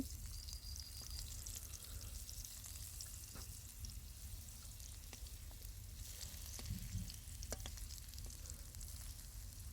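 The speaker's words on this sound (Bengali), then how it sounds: "আমি উল্টিয়ে দিচ্ছি, আর এক পাশ ভালোভাবে ভেজে নিচ্ছি" Pumpkin slices frying in a pan, with a steady close sizzle and crackle continuing throughout, turned over once to cook the other side, no talk.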